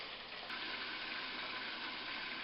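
Chicken searing in a hot pan, garlic parmesan dish, giving a constant hissing sizzle that stays even and fairly quiet throughout with no talking.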